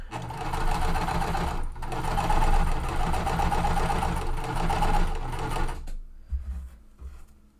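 A sewing machine chain-pieces small quilt blocks, running in one steady, close, continuous stitching burst with a brief dip, then stopping abruptly near the end.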